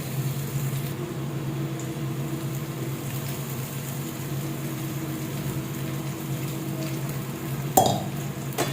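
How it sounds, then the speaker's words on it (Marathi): Soaked sabudana sautéing with chillies in oil as it is stirred in a pan: a steady low frying hiss and soft scraping, then one sharp utensil clink near the end. "साबुदाणा टाकून आपल्याला छान असं आता मिरचीमध्ये पहिल्यांदा परतून घ्यायचं आहे"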